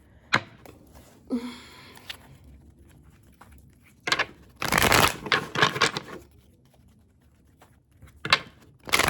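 Playing cards are shuffled in several quick riffling bursts, with soft taps and handling noises between them, close and otherwise quiet.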